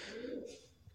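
A pigeon gives a single short, low coo, close and soft, lasting about a second.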